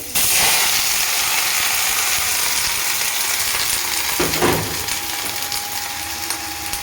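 Food fries in a small amount of oil in a pan, a loud, steady close sizzle with a brief stirring scrape partway through.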